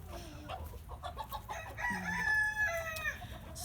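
Chickens cluck and a rooster crows loudly and close by in melting snow near a coop, the drawn-out crow rising over scattered clucks and chatter from the flock.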